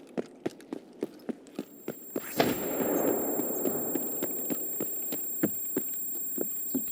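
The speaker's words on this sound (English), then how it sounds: "that's the mortar going off" In a first-person shooter, a mortar round bursts in a loud, sustained rumbling blast that fades slowly, while sharp evenly spaced footstep-like clicks tick along before and after it.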